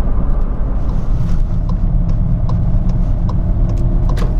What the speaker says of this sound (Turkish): Şimdi mesela 3. vites yokuş yukarı 1100 devirde bıraktım arabayı. Ve araba şu anda toparlıyor.